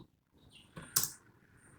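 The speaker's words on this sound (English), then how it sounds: "Now I am just typing ROS core." Brief, faint keystrokes on a computer keyboard, a few soft clicks with one sharper tap near the middle, in an otherwise quiet room.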